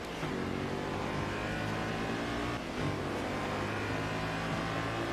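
Racing car engine in Forza Horizon 2 roaring at high revs, steady and loud with a brief dip and shift around the middle before climbing again, with no talk over it.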